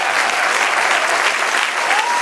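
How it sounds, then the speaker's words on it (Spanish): Loud, dense applause from a church congregation, continuous and even for the whole stretch. "Dale un aplauso, Señor."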